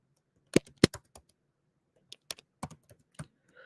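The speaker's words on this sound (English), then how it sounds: "that's me typing it in here" Keys clacking on a computer keyboard while entering sports picks, heard as a few sharp clusters of keystrokes with a pause in the middle, close and fairly loud with no talk.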